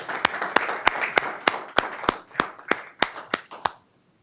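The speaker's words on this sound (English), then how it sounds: "another round of applause" Twelve sharp, evenly spaced claps ring out at a school board meeting over a murmur of scattered applause, then stop abruptly into quiet.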